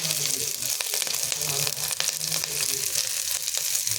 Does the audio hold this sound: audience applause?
no